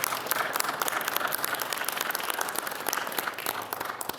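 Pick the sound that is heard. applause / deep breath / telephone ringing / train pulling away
applause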